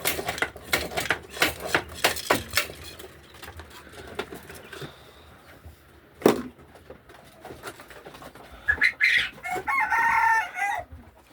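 Chickens cluck and a rooster crows close by in a backyard flock at feeding time, loud irregular bursts with a sustained crowing call near the end.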